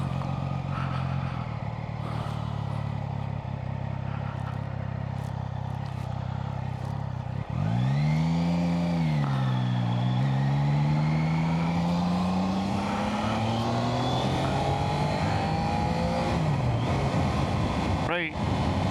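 A Triumph Daytona 660 ridden around town and on B roads: steady engine drone under wind noise, then a rising and falling engine note as the rider works through the gears, accelerating and easing off, close and continuous.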